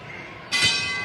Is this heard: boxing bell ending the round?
yes